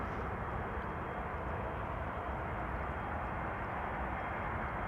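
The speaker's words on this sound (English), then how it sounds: "That would be Air Canada Flight 808 arriving from Toronto, which will land after this A321neo from Play." A Play Airbus A321neo airliner landing at Amsterdam Schiphol gives a steady, dense engine roar that holds loud and unbroken throughout, heard from outside at the airfield.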